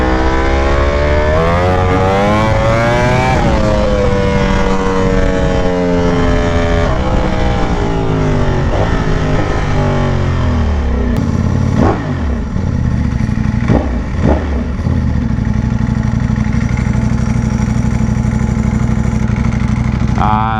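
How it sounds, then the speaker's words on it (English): Very loud motorcycle exhaust while riding, the engine note rising and falling through repeated revs and gear changes before settling into a steady droning rumble, close and sustained throughout. "all my exhausts are super loud"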